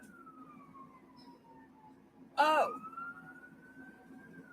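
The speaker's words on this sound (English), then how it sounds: "That's a siren." A distant emergency vehicle siren wails slowly up and down in the background, briefly interrupted by a short spoken exclamation.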